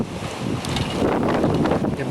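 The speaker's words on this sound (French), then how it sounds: "Il y a beaucoup de vent, excusez-moi." Strong gusts of wind blow during a thunderstorm at Sallanches, buffeting the microphone with a loud, continuous roar that swells and surges without voices.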